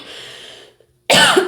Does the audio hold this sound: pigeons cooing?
no